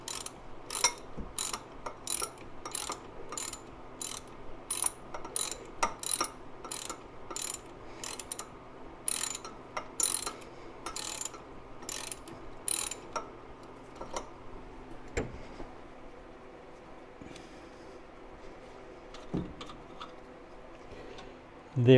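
A hand ratchet loosens the power steering pump bolts on a C3 Corvette, with rapid, evenly spaced clicking bursts close by for about thirteen seconds. After that it is quieter, with occasional knocks and faint voices.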